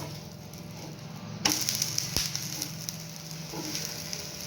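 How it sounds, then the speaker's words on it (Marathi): A green mung bean dosa crisps on a pan over medium gas, giving a steady close sizzle with a sharp clink partway through as it is handled, and no talking. "मीडियम गॅसवरती आपल्याला डोसा शेकून घ्यायचा आहे म्हणजे तो एकदम क्रिस्पी होतो"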